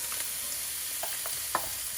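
Vegetables frying in a cast iron pan as they go into the hot oil, making a steady, soft sizzle with a few brief crackling pops and stirring scrapes, one sharper pop near the end.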